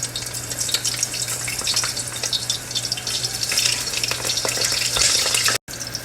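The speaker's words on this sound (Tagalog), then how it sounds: "Iprito na natin hanggang siya sa maluto" Sliced eggplant frying in hot oil, a steady dense sizzle with crackling spatters throughout, close and continuous, with a brief dropout near the end.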